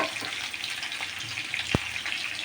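Pointed gourd and potato fry in a pan with a soft, continuous sizzle, fairly quiet and steady, with one brief sharp knock partway through.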